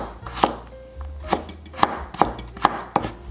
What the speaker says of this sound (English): Shred carrot into thin strips.